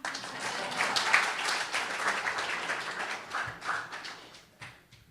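Fundraiser audience applauding, a moderate, steady patter of many hands that tapers off toward the end.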